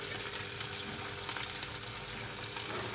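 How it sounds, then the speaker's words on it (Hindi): Shrimp fry lightly in oil over a medium flame for a shrimp biryani, giving a steady, dense crackle and hiss that stays close and even, with no talking. "अब इसी ऑयल में मीडियम फ्लेम पर श्रिम्प ऐड कर देंगे झींगे, और इसे लाइट सा फ्राई करेंगे।"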